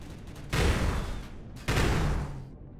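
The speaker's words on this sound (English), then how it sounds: "That sounds a bit like an artillery cannon." Two booming artillery cannon blasts in Empyrion Galactic Survival, each a sudden heavy burst with a long rumbling tail, about a second apart, with no voices.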